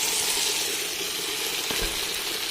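Potatoes, eggs and eggplant sautéing in a pan with a little water just added, giving a steady close hiss of sizzling throughout with a faint clink near the end.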